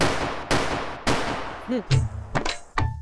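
Two sharp, loud gunshot bangs about half a second apart, followed by short metallic clanks and rattles.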